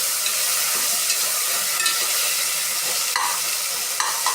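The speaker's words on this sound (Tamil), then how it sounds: "கிளறி விட்டாச்சு." Ginger garlic paste frying in a pan for chicken biryani, stirred constantly, with a loud continuous sizzle and occasional sharp scrapes of the spoon against the pan.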